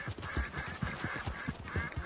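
Ducks quacking in the Red Dead Redemption 2 video game, a steady run of short, rhythmic calls repeating about every quarter second over faint outdoor ambience.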